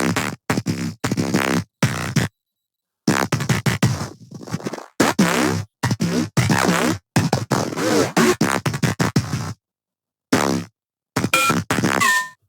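Choppy dubstep percussion groove built partly from a sampled door opening: rapid buzzy, scraping bursts in short clusters, separated by brief silent gaps, loud and up front.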